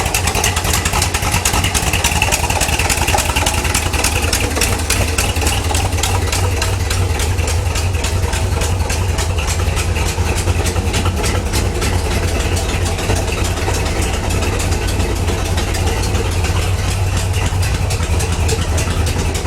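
A V8 engine swapped into a Porsche 911 idles steadily through a Flowmaster 40 dual exhaust, a loud, constant, low rumble that stays close and unbroken throughout.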